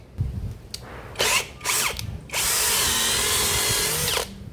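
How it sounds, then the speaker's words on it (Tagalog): A TZ Z90 rechargeable brushless drill runs in two short bursts, then drills steadily through a 13 mm by 16 bit for about two seconds before winding down, close and loud with no talking. "Set ko muna sa drill."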